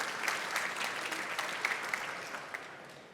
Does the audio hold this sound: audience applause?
yes